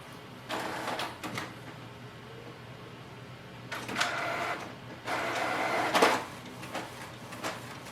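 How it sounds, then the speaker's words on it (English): A Canon Pixma G5020 inkjet printer with clogged ink working in bursts, mechanical whirring and carriage movements starting and stopping several times, with quieter pauses between passes. "So it looks like it's printing"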